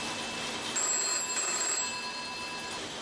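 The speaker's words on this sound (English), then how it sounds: "The phone rings." A telephone connected through an electromechanical rotary final selector exchange rings, a bright electric bell trill over a faint steady hum, heard alone without talk.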